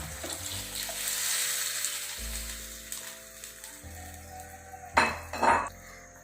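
Blended water pours into a pot of drumstick theeyal with a soft continuous splash, followed by a couple of metallic clinks and scrapes of utensils.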